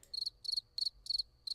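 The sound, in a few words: cricket chirping sound effect from Discord soundboard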